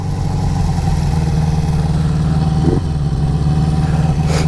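A warmed-up 1973 Honda CB350 Four motorcycle engine idles steadily and loudly up close, its four-cylinder rumble holding an even, continuous beat throughout.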